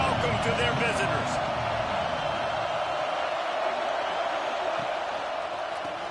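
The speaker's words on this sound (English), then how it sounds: "This crowd bringing an ear-splitting welcome to their visitors." A loud, continuous roar from a stadium crowd at a football game fills the whole stretch, with a commentator's voice running over it.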